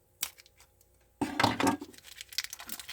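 Scissors cut through an action figure's small weight belt: one faint snip, then a louder burst of crunchy snipping and rustling handling noise.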